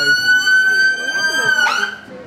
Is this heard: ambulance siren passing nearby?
yes